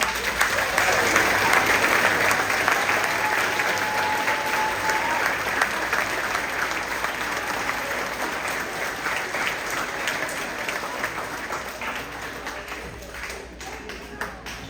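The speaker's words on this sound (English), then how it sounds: "Let's give them a round of applause." Audience at a fifth grade school awards day applauding steadily for students, loud sustained clapping from a crowd that slowly fades over about fifteen seconds.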